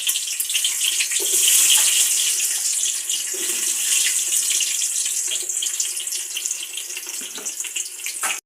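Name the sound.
onion frying in hot oil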